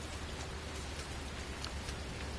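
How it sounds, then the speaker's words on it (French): Steady, dense rain falling during a Paris to Luxembourg coach drive in Fernbus Coach Simulator on PS5 Pro, a constant close hiss with no pauses or voices. "Et il continue toujours à pleuvoir."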